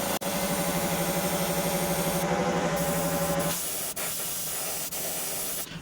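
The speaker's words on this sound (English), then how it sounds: "I'm going to spray the tail" An airbrush sprays paint onto a 7-inch glide bait in a steady, close hiss that runs almost without break, with a brief change in tone partway through and no voices.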